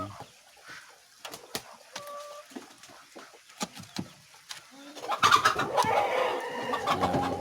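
Kampung chickens, including Bogor-type chickens, roosters and hens, cluck in scattered bursts, joined by a denser flurry of clucking and squawks toward the end; faint voices may be present.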